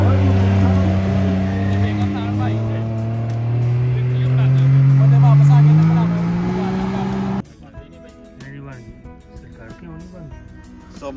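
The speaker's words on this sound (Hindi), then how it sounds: "चलने वाली गाड़ी" A motor vehicle made for driving on sand runs steadily nearby, its engine droning and rising in pitch as it goes, before cutting to a quieter outdoor scene; a voice talks over part of it.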